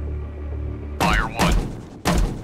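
Depth charges fired from a WWII destroyer in the naval game Destroyer: The U-Boat Hunter: three heavy, booming thumps in quick succession over a low, steady engine drone.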